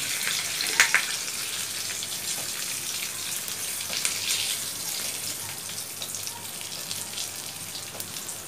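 Bata fish fry in hot oil in a pan, giving a steady, hissing sizzle with scattered small pops and crackles, close and even throughout, with no talking over it.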